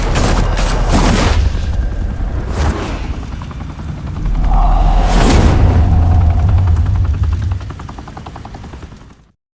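Gunfire in a Batman video game, heard as loud, rapid bursts of shots and booms over a constant heavy rotor-like roar, with several sharp cracks standing out before everything cuts off at the end.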